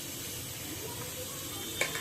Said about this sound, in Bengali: আর এদিকে প্রেশার কুকারে সিসি সিসি করছে ডাল সিদ্ধ হচ্ছে